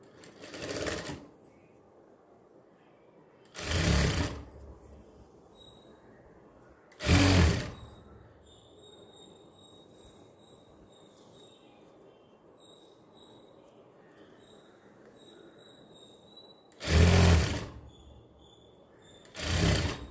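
A sewing machine stitching the back neck of a blouse runs in four separate short bursts, each a loud whirring rattle lasting about a second, with quiet pauses between them.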